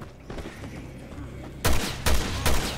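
Gunfire in the video game Resident Evil Revelations 2, three loud closely spaced shots near the end after quieter game sounds, with brief faint voice earlier.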